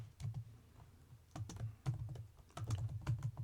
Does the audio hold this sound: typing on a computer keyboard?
yes